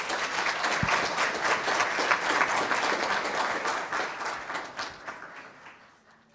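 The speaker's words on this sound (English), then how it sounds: "Let's give another round of applause to our student filmmakers, directors, and researchers." An audience at a University of Florida event applauds student filmmakers, directors and researchers: sustained, close clapping that gradually fades away toward the end.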